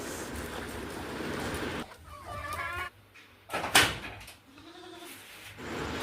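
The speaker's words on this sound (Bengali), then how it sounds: "এই মুরগিগুলোকে ছেড়ে দেওয়া" Chickens let out in the morning on a farm cluck and call in short, close bursts, with goats bleating nearby amid quiet background noise.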